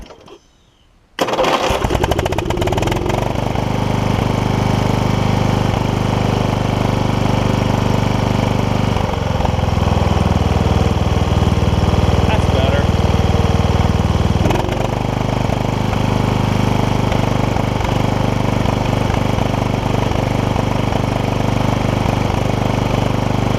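A Toro Wheel Horse 1232XL hauler tractor engine, fitted with a Hipa carburetor kit, fires up after a moment of silence and settles into a loud, steady idle, with a brief dip in its note partway through.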